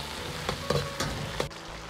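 Soy sauce poured in from the edge of a hot wok onto bean paste and fried scallion, ginger and garlic, giving a steady close sizzle with a few louder hissing bursts, no talking.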